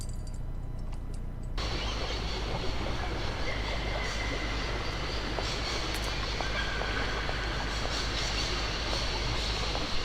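A train rolls along in the video game Syberia, a continuous loud rumble with steady rattling and clatter that starts abruptly after a quieter opening and holds throughout.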